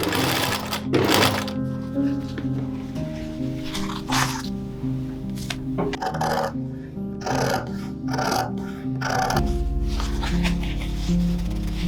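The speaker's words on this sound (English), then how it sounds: "Then I could sew around the edges with a loose stitch" A sewing machine runs in bursts while stitching around fabric edges, its rapid mechanical whir starting and stopping between short pauses and fabric handling, loud and close.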